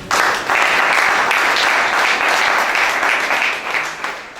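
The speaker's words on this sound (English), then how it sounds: "Don't you think you deserve a round of applause?" A town hall audience at a Nigerian senatorial session breaks into loud, sustained applause, dense clapping from a crowd that holds steady for several seconds before tapering slightly at the end.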